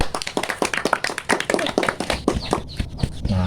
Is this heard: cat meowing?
no